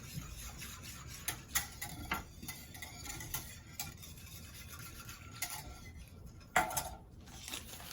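A spoon stirs thick sweetened condensed milk in a crockpot for hot chocolate, giving quiet, irregular scraping and tapping clicks against the pot with soft, close rubbing in between.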